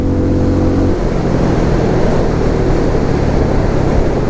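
A Benelli Imperiale 400 motorcycle engine cruising in 4th gear at speed, a loud steady low drone that is partly buried under constant wind noise.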